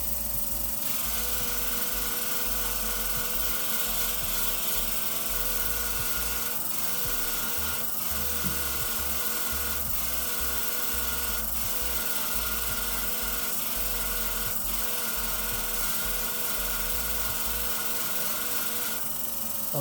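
Curved grooming shears are convexed on a Katoku sharpening guiding system, a steady buzzing, motorized whir running nonstop with faint periodic clicks and scrapes as the blade is worked.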